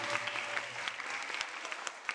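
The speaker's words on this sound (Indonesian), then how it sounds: "Tepuk tangan lagi buat kita semua." An audience at a sociopreneur seminar claps together in a brief, moderately loud round of applause with scattered sharper claps, fading toward the end.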